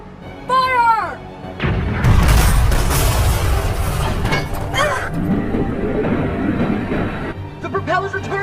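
A cannon barrage fired from a ship in an animated adventure series booms loudly, a heavy, sustained roar of repeated blasts that follows a short excited shout.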